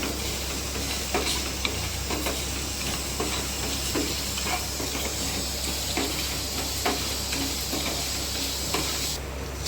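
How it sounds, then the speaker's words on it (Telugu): Spices fry over a low flame for mutton fry, giving a soft, constant sizzle and hiss with faint stirring clicks close by. "లో ఫ్లేమ్లో వీటిని ఫ్రై చేసుకోవాలి. మంచి స్మెల్ వచ్చినంత వరకు లో ఫ్లేమ్లో వీటిని ఫ్రై చేసుకోవాలి."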